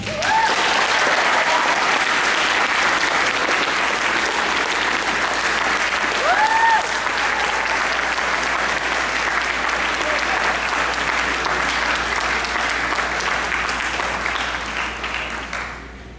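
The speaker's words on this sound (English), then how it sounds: "I want to give them a round of applause" An audience at a middle school awards ceremony applauds the award winners with sustained, loud clapping that holds steady before tapering off at the end.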